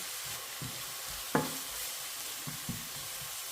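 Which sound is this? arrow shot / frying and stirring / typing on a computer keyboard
frying and stirring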